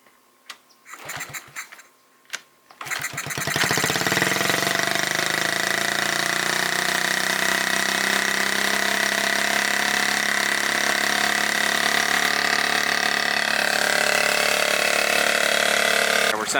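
A 1971 Honda Z50 mini trail motorcycle kick-started: a few sputtering kicks and brief catches, then the small engine fires and settles into a loud, steady close-up idle that runs on, with someone talking briefly at the start.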